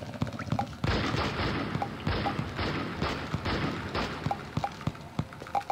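Gunfire in the video game Castle Miner Z, a rapid run of sharp repeated shots with dense crackling bursts across several seconds, close and loud, with no speech over it.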